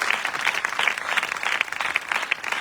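A congregation at a Pentecostal church wedding blessing for ten couples claps in a dense, continuous wave of applause, fairly close and lively throughout.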